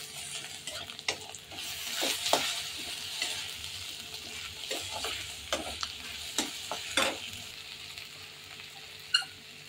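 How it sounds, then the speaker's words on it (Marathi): Peanuts, onion, cumin and mustard seeds frying in oil in a pan for chapati chivda, with a steady soft sizzle under repeated stirring scrapes and a few sharp clinks, no talking. "कांदा, शेंगदाणे, जिरी मोहरी हे सर्व परतून घेतल्यानंतर त्याच्यामध्ये हळद घालायची."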